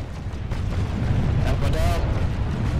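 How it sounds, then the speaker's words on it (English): Rockets and grenades blasting in a large Planetside 2 battle at the Onatha Bio Lab, a continuous roar of overlapping explosions and rumbling booms with some voices talking over it. "Rockets and grenades."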